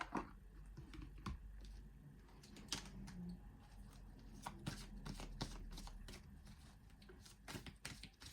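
A deck of angel oracle cards is shuffled up close, giving quick papery riffles and soft flicking clicks in uneven bursts, fairly quiet with no talking.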